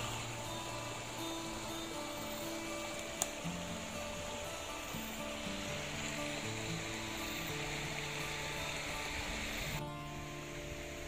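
Clear river flowing beneath a temple bathing site at the Geneng patirtan in Kepung, Kediri, a faint continuous rushing wash of water with a brief sharp tick partway through and no talk.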